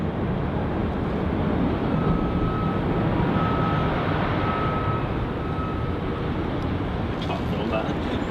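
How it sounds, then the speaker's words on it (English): A Qantas airliner, flight QF796, takes off from Melbourne Airport with a loud, continuous engine roar and a thin steady whine running through it, heard up close without letup. "This is Qantas flight QF796 heading off to Alice Springs."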